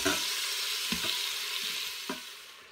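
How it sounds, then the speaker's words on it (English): Stew meat browns in hot cooking oil in an Instant Pot with a steady, close sizzle and frying hiss, broken by a few soft clunks as the pieces are stirred. "And now I'm going to add my stew meat to the hot cooking oil."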